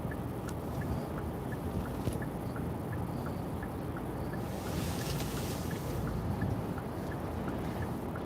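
A car drives along steadily with a continuous broadband road and engine rumble. The faint repeating tick could be a turn signal. The noise stays even and unbroken throughout, and no one speaks.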